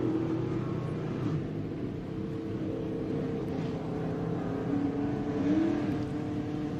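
Dirt track modified race cars rumble onto the speedway, a blended, steady drone of several engines at moderate distance with slight rises in revving and no clear individual pass.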